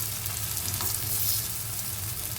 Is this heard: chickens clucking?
no